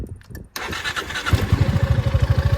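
A Piaggio MP3 scooter cranks briefly and its engine catches, settling into a loud, close, steady pulsing idle with a rhythmic low throb.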